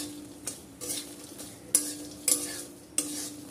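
Fox nuts (makhana) frying in a pan, a soft continuous sizzle broken by several distinct stirring scrapes in uneven succession, close and fairly quiet.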